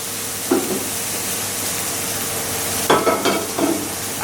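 Vegetables for chicken and vegetable macaroni are lightly stir-fried in a pan, with a steady hissing sizzle punctuated by a few brief scraping stirs of a utensil, close and clear.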